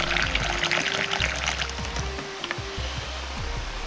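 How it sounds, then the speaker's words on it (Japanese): Hot water from a thermos pot pours steadily into a bowl of sesame oil and seasoning for soup. The continuous splashing stream is close and fairly loud, and its pitch shifts as the bowl fills. "ここにポットのお湯を注ぎ入れます。"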